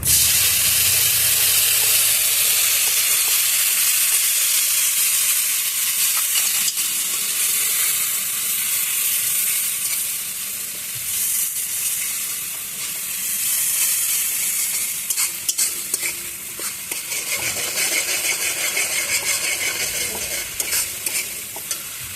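A masala of browned chopped onion sizzles hard in a pan after a little water goes in, a loud, continuous hiss and crackle with stirring scrapes throughout.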